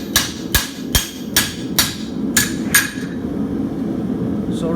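Farrier striking a pritchel with a hammer to punch nail holes in a steel horseshoe, seven sharp ringing metallic blows in an even rhythm, loud and close, followed by a quieter stretch.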